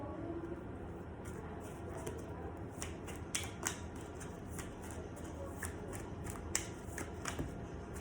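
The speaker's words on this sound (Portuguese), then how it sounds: "Eu vou abrir as 3 cartas do baralho de Padilha, mas eu também vou abrir, né, mais 3 cartas do baralho cigano para vocês" Tarot cards, both a Padilha deck and a Gipsy deck, shuffled and drawn; soft papery shuffling runs throughout with a few sharper snaps of cards being turned or laid down, close and quiet.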